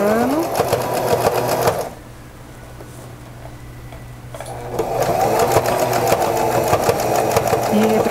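A sewing machine backstitches and runs seams on a cotton dish towel. The rapid, even motor whir is close and loud, dips to a quiet lull for a couple of seconds, then resumes at full speed.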